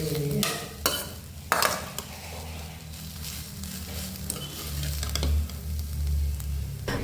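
Food frying in a pan after a tempering of spices: a steady sizzle runs throughout, broken by a few sharp scraping and clattering bursts as it is stirred.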